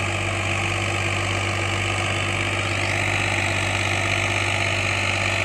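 A Massey Ferguson 245 tractor engine, working with a nine-tine cultivator, runs steadily with a deep, continuous throbbing hum, close by and unchanging, with no voices.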